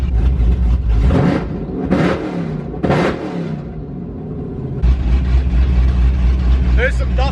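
Straight-piped drag car engine revving hard to around 5,000 RPM indoors, loud repeated surges of roaring exhaust over a constant heavy idle rumble, with short bursts of rising pitch and a final climb.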